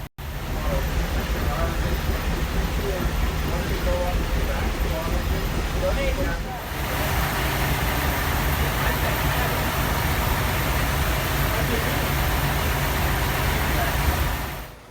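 East Broad Top Railroad M1 motorcar riding along the rails, a steady loud rumble and rattle of the car body with constant track noise and a brief dip midway before the roar resumes.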